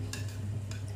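A spoon steadily stirs thick pearl millet porridge (kambu koozh) in a pot, with soft scraping strokes over a low simmering hum.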